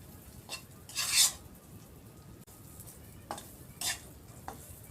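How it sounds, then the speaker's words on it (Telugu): Stuffed vegetables stirred in hot oil in a pan, with quiet scraping and rubbing strokes and a few brief louder sizzling bursts over a low frying hiss. "ఈ నూనెలో బాగా కలుపుకుందాం ఇవి"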